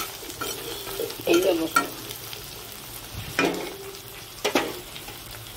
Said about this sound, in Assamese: আৰু এতিয়া এইখিনি ভাজি ল'ম অলপ ভালদৰে।